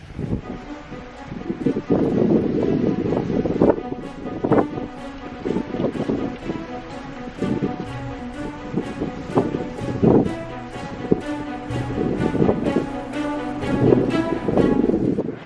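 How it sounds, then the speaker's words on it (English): Steady wind roars across the microphone throughout, with rumbling gusts and sharp clatters and knocks, a few voices shouting briefly in the background, at a winter camp in the Boundary Waters at 27 below zero. "It's quite windy."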